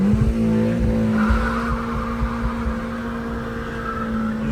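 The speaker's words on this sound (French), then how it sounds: "Nous allons faire un petit démarrage, une petite accélération dynamique." Car pulling away and accelerating hard on a road test, with a steady engine drone heard from inside the cabin and a faint tire noise, sustained for several seconds.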